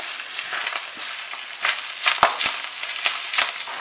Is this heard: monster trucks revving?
no